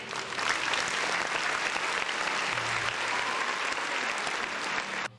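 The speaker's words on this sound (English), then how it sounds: "Round of applause for Nariko, man." A podcast audience gives a round of applause for a guest: dense, steady clapping that holds at an even level for about five seconds, then cuts off abruptly.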